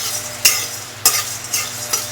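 Ground spice masala being stirred in a pan while cooking prawn bhuna: a soft sizzle underneath, with a few sharp spoon scrapes spaced roughly half a second apart.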